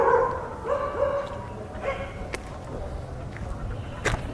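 Dogs bark and yip in the distance, a few scattered barks over a steady outdoor hum, fairly faint.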